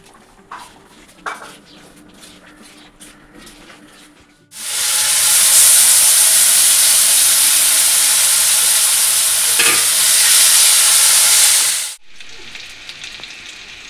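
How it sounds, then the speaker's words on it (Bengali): Prawns and pointed gourd fry in a kadai: a few quiet stirs and clinks, then a sudden loud, bright hissing sizzle that holds steadily for several seconds before cutting off to quieter pan sounds. "চিংড়ি ভাজা হয়ে গেছে, আর পটল ভাজাও হয়ে গেছে।"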